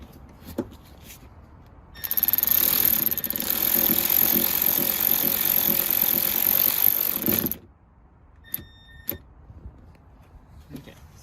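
A ratchet wrench clicks rapidly and steadily while tightening the bolt that secures the rear seat bottom cushion of a 10th-generation Honda Civic, loud and close, then stops, followed by a few faint clicks and handling noises.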